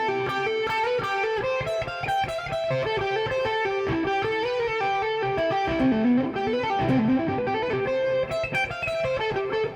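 An overdriven electric guitar plays a flowing minor-key line in the Aeolian mode, mixing arpeggiated notes with a stepwise scale run, sustained and close.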